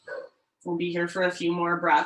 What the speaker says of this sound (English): if you can hear my roommate's dogs barking upstairs